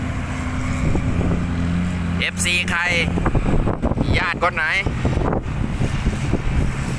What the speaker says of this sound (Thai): ลมค่อนข้างแรง เนื่องจากพายุกำลังมาครับ